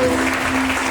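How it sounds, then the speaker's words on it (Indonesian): A church congregation at a GKPR Filadelfia service bursts into a brief round of clapping, steady and fairly loud, with a held musical tone sounding underneath. "tepuk tangan buat Tuhan"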